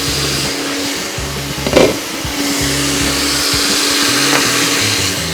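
Mixer grinder whirring steadily as it grinds ingredients into a fine paste for an onion curry, a loud continuous motor drone with slight rhythmic pulsing and a brief louder surge partway through, no talking.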